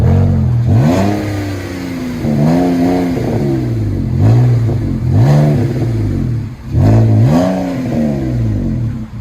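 A 2004 BMW 525i with a 2.5L inline-six and muffler-deleted exhaust revs repeatedly, about five rising and falling throttle blips in a row, loud and close with no talk.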